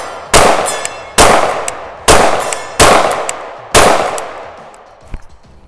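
A KRISS Vector 10mm carbine with a stubby magazine fires five loud, sharp shots at uneven intervals outdoors, each crack ringing out into a short echoing tail, with no talking.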